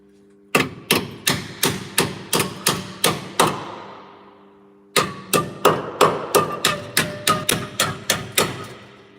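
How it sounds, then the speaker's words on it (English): Sharp hammer blows on metal ring out in a steady, even rhythm in a shed: about nine strikes, a short pause, then a longer run of a dozen more, loud and close. "I need to give it a good smack with hammer and bend it in now."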